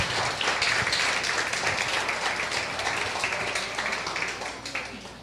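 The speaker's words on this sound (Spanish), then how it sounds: "Vamos a darle un aplauso a Cristo" Church congregation applauding in praise of Christ, a dense burst of clapping that fills about five seconds and slowly tapers off.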